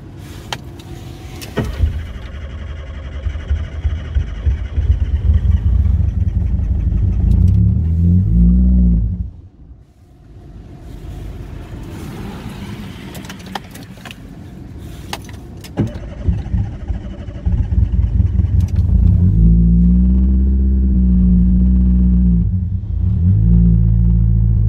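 A supercharged Fiat Punto cold-starting: cranking catches into a rough, near-stalling idle that dips almost to silence, then picks up again and swells with a few loud revs toward the end, close to the microphone.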